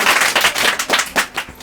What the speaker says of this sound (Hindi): गौतम जी के लिए जोरदार तालियां।